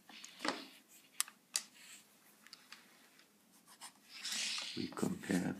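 A Montblanc Meisterstück fountain pen with a double broad nib writes on paper: soft scratchy strokes and a few small taps, faint and close, with light talk near the end.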